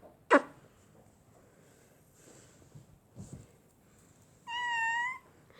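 A cat gives a short, sharp meow, then after some quiet rustling lets out a longer, clear, tonal meow close by.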